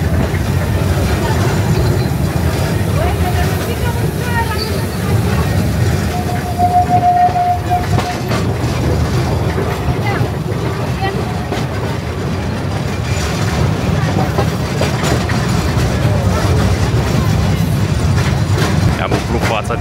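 The Mocănița narrow-gauge train runs through Bucovina with a loud, continuous low rumble and rattle, and a short thin whistle-like tone rises briefly partway through.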